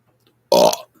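A single short, loud, close burp, throaty and croaky, clear against silence.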